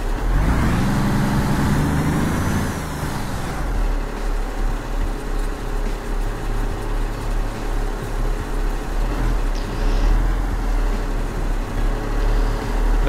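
A truck drives along with a steady, close engine drone and road rumble, with a heavier low roar in the opening seconds that then settles into an even hum.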